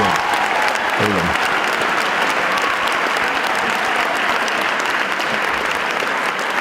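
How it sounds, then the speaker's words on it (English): A big crowd at a school honors ceremony gives loud, sustained applause for the name readers, a dense, even wall of clapping that fills the whole stretch, with a brief voice near the start. "how about we give these name readers a big round of applause?"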